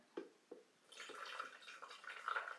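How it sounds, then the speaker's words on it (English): A couple of soft drips, then water is poured steadily into a container, a close, gurgling splash that rises in pitch as it fills. "All right, so I'm going to add my water."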